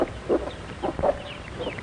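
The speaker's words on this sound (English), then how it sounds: "Mother hen keeps her baby chicks warm." Plymouth Rock mother hen on a farm nest clucking softly among her baby chicks, several short, close clucks in an uneven rhythm with no talk.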